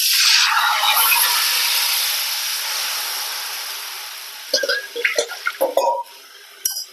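Liquid pours steadily into a cooking pot of idli sambar with a soft rushing hiss that slowly fades, followed by a few clinks and light knocks nearby.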